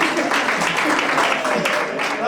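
Audience applause at an alumni chapter induction gathering, a steady, dense wash of many hands clapping close and loud for the whole stretch, with some voices mixed in underneath.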